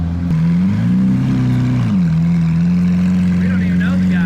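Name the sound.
Lamborghini Aventador supercar engine passing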